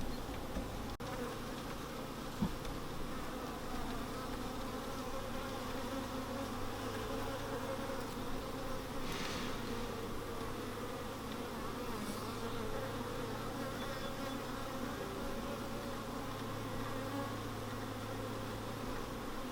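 Honeybees on an orientation flight swarm around their hive, a steady close buzzing drone that carries on unbroken, with individual bees zipping past now and then.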